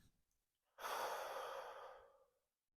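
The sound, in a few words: deep breaths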